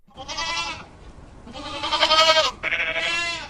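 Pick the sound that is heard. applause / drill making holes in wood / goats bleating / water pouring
goats bleating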